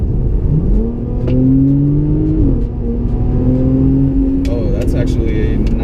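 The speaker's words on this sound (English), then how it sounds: "The shifting speeds, let me just put it in manual transmission." An Audi S4 engine revs up and down through gear shifts in manual mode, heard from inside the car as a steady rising and falling drone, with brief pauses between shifts.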